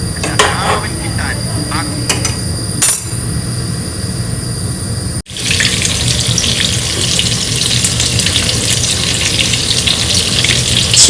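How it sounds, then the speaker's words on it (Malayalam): Chicken frying in oil in a home kitchen, a loud steady hiss with clattering knocks early on, briefly dropping out before a denser, stronger sizzle resumes. "ചിക്കൻ ഫ്രൈ ആണ്"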